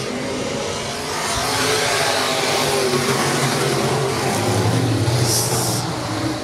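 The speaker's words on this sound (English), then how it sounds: "RPMs come up and we're underway." IMCA Sport Modified race cars at Raceway Park roar as they accelerate off the start, a dense, loud wall of engine noise that swells and holds steady throughout.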